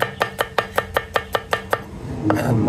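A knife slices through filefish on a board in about nine quick, even chopping strokes, close and crisp, followed by a muffled clatter at the end.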